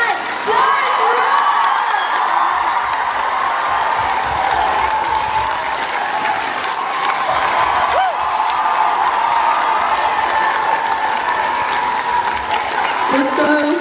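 Concert crowd in Cleveland, Ohio applauding and cheering for the opening act on a rock band's tour, sustained dense clapping with whoops and shouts, a voice briefly audible over the crowd.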